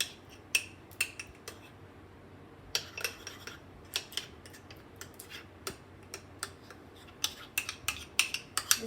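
No-bake raspberry cheesecake batter stirred in a bowl, a utensil clinking and tapping against the sides in irregular, close bursts, with no talking.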